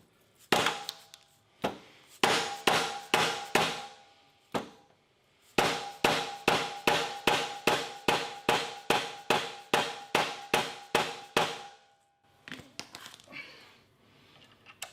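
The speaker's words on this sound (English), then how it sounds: "So I do have a mallet. It's what they call a sand mallet. You can hear it." A sand-filled mallet strikes a part of a Precor spinning bike in two long runs of sharp, evenly spaced knocks, about two dozen blows, loud and close, with brief pauses between runs.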